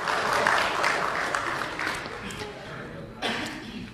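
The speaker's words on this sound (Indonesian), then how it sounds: "Tepuk tangan dulu buat Ibu Ega." An audience claps steadily throughout at a public meeting of Borneo activists with Indonesia's parliamentary Commission III, loud and dense applause with a voice speaking over it.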